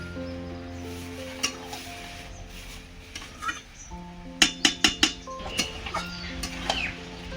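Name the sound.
chicken being stirred and sautéed in a pan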